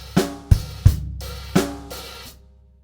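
Sparse drum hits from the bar 47 groove of a rock-pop song, with five separate strikes in an uneven rhythm, each a punchy low thump with a splashy decaying ring, close and clear with no talking.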